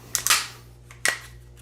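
Metallic clicks and clacks as a Beretta M9A4 pistol is cleared and its slide locked back: a quick double snap followed by a louder single clack, close and alone over a steady low hum.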